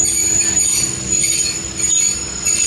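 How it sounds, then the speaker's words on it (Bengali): The Titumir train rolling into platform 2 at Phulbari railway station, a loud continuous rumble of railcars with high, sustained wheel squeal as it slows, close by and without speech. "এখন ফুলবাড়ি রেলওয়ে স্টেশনের 2 নম্বর প্ল্যাটফর্মে তিতুমির ইন করলো"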